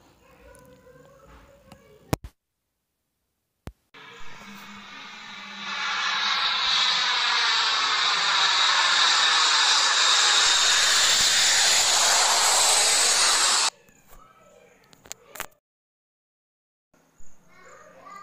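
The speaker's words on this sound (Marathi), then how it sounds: "आता आपण आपला व्हिडिओ चालू करून पाहू आपल्याला कशाप्रकारे प्लेन उडताना दिसेल" An airplane roars loudly and steadily, passing close for several seconds before stopping abruptly, surrounded by short bursts of children's voices and brief silences.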